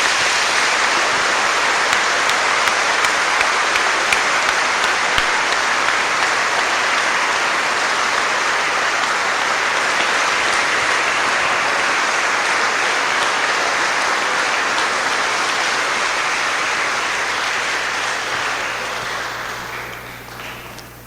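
A church audience at a testimony gathering claps in a long, dense burst of applause that holds steady for most of its length and then tapers off near the end.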